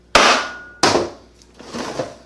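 Hammer striking a metal part during an Acura MDX transmission teardown: two sharp, ringing metallic blows about two-thirds of a second apart, then a softer, duller tap, close and loud with no talking.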